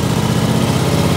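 John Deere LX277 lawn tractor engine running on a cold January start, a steady loud low rumble with throttle held, continuous and close with no talk.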